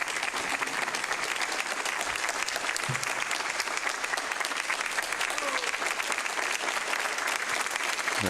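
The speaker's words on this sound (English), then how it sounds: "They're clapping." An audience claps at a 2020 presidential debate between Trump and Biden, a loud, continuous applause that fills the hall for several seconds.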